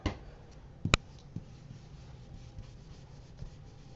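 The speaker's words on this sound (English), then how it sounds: "I'm going to rub off that color just so it's real light around my daisy." A soft rubbing of color off paper around a stamped daisy, faint scratchy strokes close up, with one sharp tap near the start and a few light ticks, no talking.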